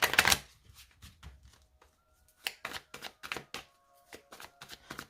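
A deck of tarot cards is cut and shuffled by hand, with bursts of riffling and crisp slapping card sounds in an irregular rhythm, close up, with a faint tone in the background.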